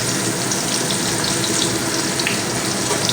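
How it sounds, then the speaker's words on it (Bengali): Chopped onions fry in leftover fish-frying oil for a rohu curry, giving a steady, loud, dense sizzle with fine crackling that holds evenly throughout, with no voices. "পেঁয়াজগুলো তেলের মধ্যে দু মিনিট কষিয়ে নিলাম"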